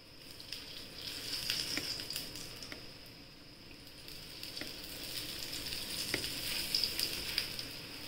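Bottle gourd paratha sizzles in oil on a hot pan, a continuous close crackle and hiss with small pops and scraping touches throughout, no talking.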